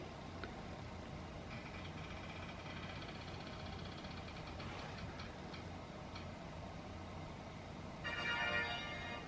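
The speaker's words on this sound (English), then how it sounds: "I have my spinner wheel right here, and we're gonna spin." A spinner wheel whirs with a rapid ticking that rises in loudness and density near the end. It plays over a faint steady background.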